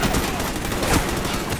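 Rapid automatic gunfire in the Ghost video game, a loud continuous burst of overlapping shots with no pauses, filling the whole moment.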